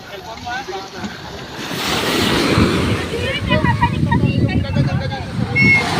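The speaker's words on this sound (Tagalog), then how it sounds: "Lakas ng alon." Strong ocean waves crash and surge against a moving island-hopping boat off Zambales, with rushing water and wind noise throughout and people's voices calling out over it.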